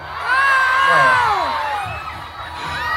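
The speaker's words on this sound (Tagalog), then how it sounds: "malakas talaga ang sigawan ng mga tao dito" A crowd of people at a lively gathering in Hong Kong shouts and whoops loudly, with shrill rising and falling cries layered over a dense, steady roar of voices that swells and dips slightly throughout.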